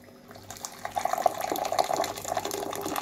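Hot water pouring from a Virgin Pure water purifier into a container, a steady splashing fill that starts after a brief pause and grows louder, with no talking.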